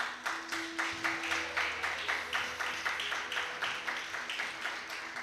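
Church congregation applauding the Lord Jesus at a family worship service, a steady rhythmic clapping in unison with regular pulses, sustained throughout with faint tones in the background.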